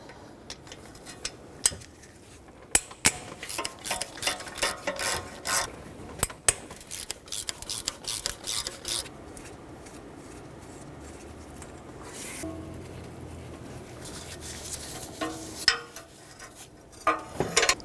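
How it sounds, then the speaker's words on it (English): Extension and socket ratcheting on the exhaust manifold bolts of a 2006-2012 Toyota RAV4, giving repeated rasping clicks and metal scrapes at close range, in short bursts with brief gaps. "For the bottom 2 on the side, I'm going to use an extension and the socket."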